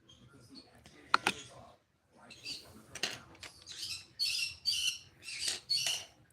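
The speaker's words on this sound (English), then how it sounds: "Please pardon the screaming birds in the background." Pet birds squawk and screech in bursts through a quiet indoor room, shrill calls repeating and growing more frequent toward the end, with soft background handling noises.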